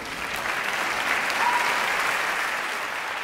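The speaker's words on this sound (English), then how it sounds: "I'm clapping for my wife." An audience applauds at a staged musical event. The clapping is dense and sustained for a few seconds, loud and even, with no talking over it.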